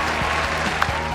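An audience claps for the Raja Ampat district at a waste-management outreach event, a dense, continuous round of applause lasting just over a second.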